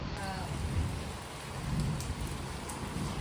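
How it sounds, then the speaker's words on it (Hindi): Unseasonal rain falling steadily, a dense close hiss of drops on surfaces with a low rumbling undertone, continuous throughout the short stretch. "बेमौसम बरसात हुआ है, अरे पानी है।"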